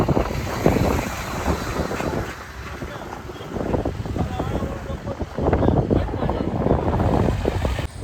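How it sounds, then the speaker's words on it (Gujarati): Strong sea gusts buffeting the microphone in loud rumbling bursts near Pamban Bridge, with water and waves faintly beneath and a voice now and then. "બહુ પવન છે."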